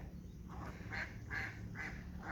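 Ducklings on water quack in a short series of about four nasal calls, fairly faint over a low background hum.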